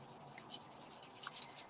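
A marker colours in a stamped image on paper, giving soft, quiet scratchy strokes in a short irregular series of brief swishes.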